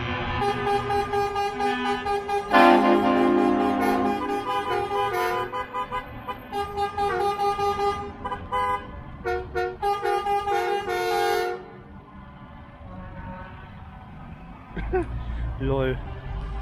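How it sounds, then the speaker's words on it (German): A truck horn blasts at a 2024 construction workers' demonstration with trucks in Walsum, a loud honk over engine rumble, traffic and crowd noise, with people talking throughout. "Der hat jetzt gerade gehupt"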